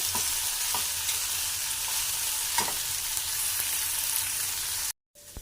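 Onions frying in a pan until golden, a constant close sizzle with a few light stirring scrapes, cutting off abruptly near the end, with no voices.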